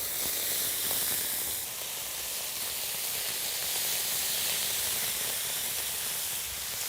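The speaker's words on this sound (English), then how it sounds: "I can now start loading up the flat top griddle with the ribeye" Ribeye steak sizzling on a flat top griddle, a steady dense hiss of searing fat and meat, close and continuous without pause or voices.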